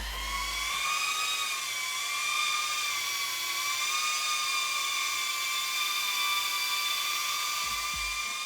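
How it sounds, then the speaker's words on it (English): A DeepSpace Stellar 25, a beefy 2.5-inch ducted cinewhoop FPV drone under 250 grams, flies with a loud, steady high-pitched propeller whine that wavers slightly in pitch throughout, close by and with no voices. "since this is a beefy, ducted Cinewhoop, it's not the quietest drone out there"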